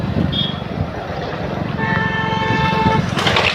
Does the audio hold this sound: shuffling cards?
no